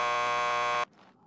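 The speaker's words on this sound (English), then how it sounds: "Just press the buzzer by the door." A harsh, loud door buzzer sounds in a police lockup in Max Payne 2, one steady electric drone lasting under a second that cuts off abruptly, followed by faint room noise.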